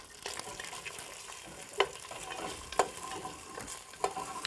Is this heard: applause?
no